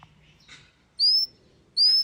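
A small pet bird gives two sharp, high whistled chirps about a second apart, close and clear, after some faint, softer twittering.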